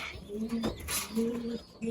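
Domestic pigeons, including a female near a nest of eggs, coo softly in repeated low throaty phrases at close range, with faint background noise and a brief rustle midway.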